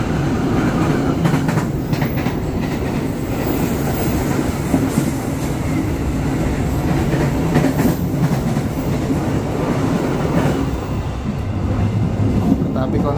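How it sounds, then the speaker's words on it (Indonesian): Container freight train rolling past in Surabaya, a long steady rumble with rhythmic clattering of wheels on track, close and loud throughout. "Nah, itu kereta api barang."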